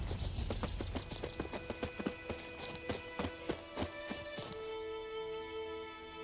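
A summoned horse gallops in The Witcher 3 video game, rapid rhythmic hoof clip-clops that pound steadily before easing into a tonal game hum near the end.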